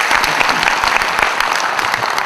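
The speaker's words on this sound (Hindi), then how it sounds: "ये दोनों के लिए जोर से तालियां होनी चाहिए" Brisk, loud applause from a banquet audience at a bank's platinum jubilee celebration as two people are called up on stage, dense clapping filling the whole short burst.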